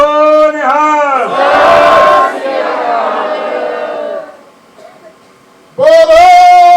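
At a press conference, a crowd shouts a loud, brief Sikh jaikara in unison in answer to a man's drawn-out call; his sustained voice is heard before and after the roar.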